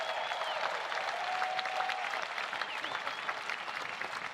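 A large crowd at the Pro Football Hall of Fame enshrinement claps and cheers in dense, sustained applause that fills the whole stretch at a steady level, with scattered whistles and shouts rising above it.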